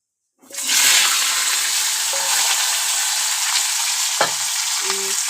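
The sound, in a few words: nigella seeds (kalo jeere) tempering, sizzling in oil in a kadai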